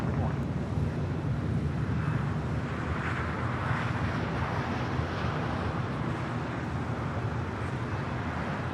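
Delta airliner rolling down runway 25 right at Los Angeles International for takeoff, a steady broad jet roar with rushing wind that stays loud and unbroken throughout.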